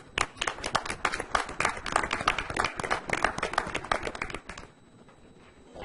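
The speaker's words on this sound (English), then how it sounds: "North Kingstown is clapping through the television." Applause from a crowd at a North Kingstown business meeting, heard through a television: dense, steady clapping for about four and a half seconds, then fading out abruptly.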